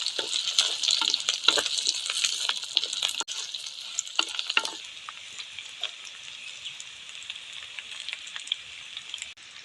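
Onions fry in a pan while cooking a zucchini and groundnut dish, a steady close sizzle with crackles and occasional scraping stirs, no talking.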